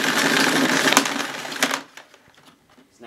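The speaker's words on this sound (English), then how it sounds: "let's see how effective the automatic cord rewind is" Automatic cord rewind on a Sebo K3 Premium cylinder vacuum cleaner: a loud, rushing rattle for nearly two seconds that stops abruptly, followed by a few faint knocks and near silence.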